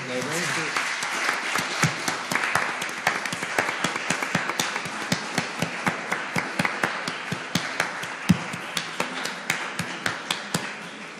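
A conference audience claps in rhythmic unison, a crisp, steady beat of roughly two claps per second that holds for over ten seconds on top of a wash of scattered clapping.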